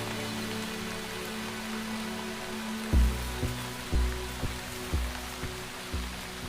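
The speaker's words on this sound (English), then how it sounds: "The rain won't make her task any easier." Steady rain falls as an even, continuous hiss, with a few soft low thumps of drops landing partway through.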